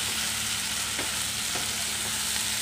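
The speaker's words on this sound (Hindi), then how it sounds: "दो मिनट हो गए, ये अच्छे से भून चुका है, सारे मसाले मिक्स हो गए चिकन के अंदर" Restaurant-style Chicken 65 frying in a pan, a dense, even sizzle that holds steady from start to finish, close up, with a couple of faint scrapes as it is stirred.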